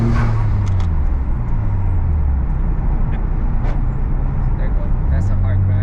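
A Nissan Skyline GT-R R33 drives, its engine a loud steady rumble with rising and falling tones and road noise throughout.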